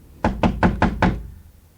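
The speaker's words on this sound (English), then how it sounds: "She knocked again." Five hard knocks on a wooden door, evenly spaced and loud, each with a sharp thud, followed by a quiet pause.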